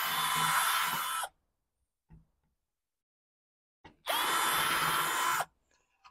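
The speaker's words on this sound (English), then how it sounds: "if we sit our larger drill bit in there, it just knocks those burrs off" Two bursts of a power drill whirring as a larger drill bit knocks burrs off a drilled metal case, each about a second long, separated by quiet with a faint tap or clunk in between.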